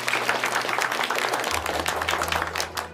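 Students in a room break into steady, lively applause that continues throughout, with a low hum underneath.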